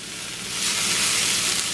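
Grated beetroot stir-fried in a hot pan until its moisture cooks off, giving a close, continuous sizzle that swells louder midway and holds steady.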